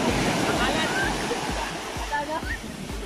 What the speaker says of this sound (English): Ayun, lakas ng alon.